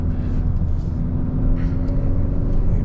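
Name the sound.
engine of a 2021 Hyundai Sonata N Line driven in Sport Plus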